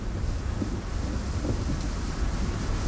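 Heavy rain storm with rumbling thunder sweeping across the dry scrub and bush of the Kalahari, a steady dense roar of rain and wind with low rolling rumble throughout, no voices.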